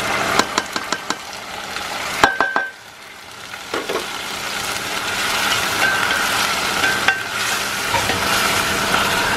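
Garlic frying until browned in a home kitchen pan, stirred with a few scraping clatters early on, then a steady close sizzle that continues without speech.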